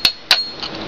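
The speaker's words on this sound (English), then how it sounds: "you can take the hammer and punch and just tap it loose" Two sharp metallic taps of a hammer striking a punch to knock a wood plug loose, spaced apart, the second followed by a faint ringing and a softer knock.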